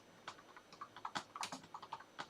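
Quick, irregular keystrokes tapped on a small computer keyboard, clicking close and alone at a soft, uneven pace.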